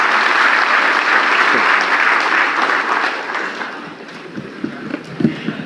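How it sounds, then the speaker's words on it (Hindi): An audience at a daylong CSC Aadhaar services session claps. The applause is loud and sustained, then thins and fades, leaving a few scattered claps and thumps near the end. "एक बार तालियों के साथ उसी एनर्जी को वापस लेके आएंगे जो सुबह थी हमारे लिए"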